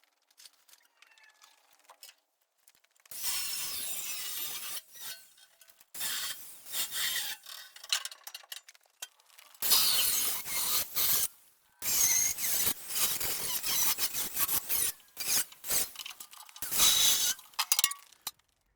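Metal being cut off the rear fender of a stripped rat rod truck, with bursts of harsh rasping and grinding separated by short pauses and a few light clinks, fairly close and loud, no talking.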